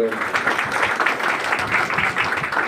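Audience applause at an award ceremony honouring environmentalists, a steady wash of clapping from a crowd that carries on without a break at moderate loudness, with a voice faintly mixed in underneath.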